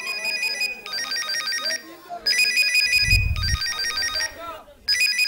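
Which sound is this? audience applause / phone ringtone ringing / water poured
phone ringtone ringing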